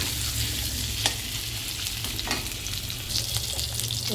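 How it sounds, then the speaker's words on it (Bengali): Potatoes and green plantain frying in a pan, sizzling steadily up close while a spatula scrapes and stirs now and then, without any talk. "দেখো আলু আর কাঁচকলা আমার ভাজা প্রায় কমপ্লিট"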